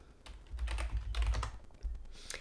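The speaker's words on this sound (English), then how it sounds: "we're going to go type in what we're kind of ranking in" Keys clatter on a computer keyboard in a short, close burst of rapid typing, a few quick strokes bunched together then a brief pause and more taps.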